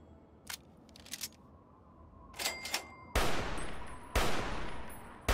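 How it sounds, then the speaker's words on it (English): Gunfire in the video game Fallout: A Tale of Two Wastelands, with a few quieter shots early on, then two loud, sharp blasts with ringing tails near the end, no talking. "So two shots to kill these guys."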